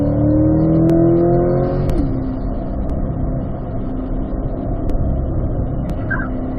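A Corvette engine on a race track at a high-performance driving school revs hard near the microphone, drops pitch sharply on an upshift into fourth gear, then keeps droning at a steady, loud level.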